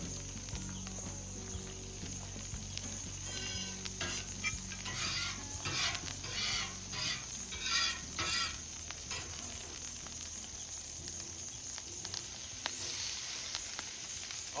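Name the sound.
potatoes sizzling on a homemade grill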